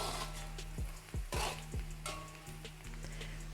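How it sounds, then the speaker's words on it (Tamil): Ginger, garlic and onion sizzle and crackle steadily in hot oil in a pan, with a few sharp clinks of a spoon against the pot and a faint hum in the background. "இஞ்சி, பூண்டு, வெங்காயம், இது நல்லா வதங்கி வரட்டும் ஃப்ரெண்ட்ஸ்."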